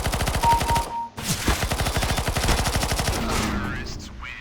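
Rapid automatic gunfire from the video game CS:GO, a dense rattling burst that runs almost without pause, briefly cut off, then resumes loud and continuous with faint voices mixed underneath.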